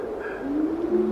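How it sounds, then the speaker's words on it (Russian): A bird, apparently a pigeon or dove, coos softly with low, hollow, rising notes heard through faint background noise. "Говорит, здесь так кричит какая-то птица."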